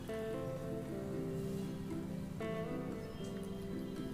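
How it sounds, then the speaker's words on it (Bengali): Long strips of eggplant fry in hot oil, a steady dense crackle and sizzle with no speech heard. "এবার ওই তেলের মধ্যে আমি একটু বেগুন কেটে রেখেছি, লম্বা লম্বা করে বেগুনগুলোকে একটু ভেজে নেব।"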